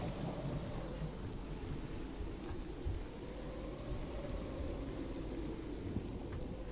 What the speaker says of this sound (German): war ja klar, dass es jetzt zum Gewittern anfängt